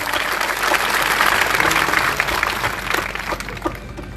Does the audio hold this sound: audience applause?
yes